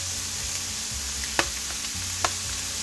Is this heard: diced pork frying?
yes